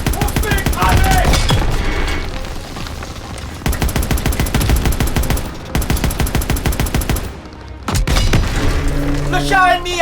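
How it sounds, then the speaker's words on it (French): Call of Duty WWII battle as a German Panzer tank is destroyed: loud booming explosions and rapid bursts of machine-gun fire in dense, repeated waves, with brief drops between volleys and game voices mixed in. "Le char ennemi a été détruit!"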